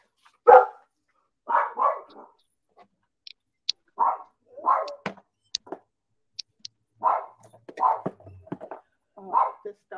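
A small dog barks in short, sharp bursts, roughly a dozen yaps in uneven clusters close by, with brief quiet gaps and faint clicks between them.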